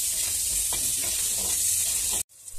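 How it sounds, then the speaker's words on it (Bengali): Pointed gourd (potol) sizzles steadily as it fries in a pan with salt and turmeric and is stirred, a close, continuous hiss that cuts off abruptly near the end. "পটলটা ভেজে নিচ্ছে।"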